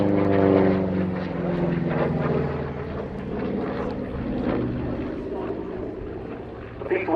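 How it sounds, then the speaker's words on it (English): A P-47D Thunderbolt piston-engine propeller fighter at a Duxford Battle of Britain air show, a loud sustained engine drone with a low harmonic hum that slowly shifts as it passes, with a voice commentating over it. "The P-47D model, like this, was the most produced"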